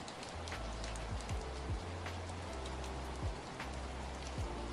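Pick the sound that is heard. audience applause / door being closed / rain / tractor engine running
rain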